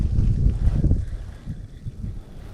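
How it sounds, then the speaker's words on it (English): Wind blowing across the microphone on a lake bank during winter crappie fishing, low rumbling gusts strongest at first, then easing into softer buffeting. "Wind's picking up just a little bit here"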